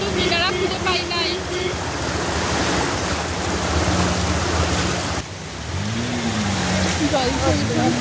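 Floodwater rushes through a waterlogged street in Kolkata during heavy rain with a constant broad, churning roar, and a person talks close by over the flow.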